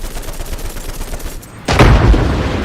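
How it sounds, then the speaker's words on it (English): Machine gun fire in the War Thunder aerial combat game, a steady rattling stream that drops briefly before a loud, dense burst of rapid gunfire bursts in close. "Get those machine guns on that enemy air, boys."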